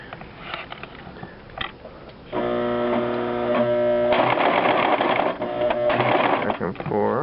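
A sewing machine stitches back and forth to form a small bar tack at the top of a heavy buttonhole, a loud, steady mechanical whir running from a couple of seconds in to the end, after quieter handling sounds.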